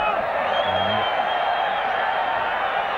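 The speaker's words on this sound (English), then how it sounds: "Crowd didn't like that." A large stadium crowd at an Orange Free State rugby match, heard as a dense, loud, steady roar of voices that holds without a break, with no single voice standing out.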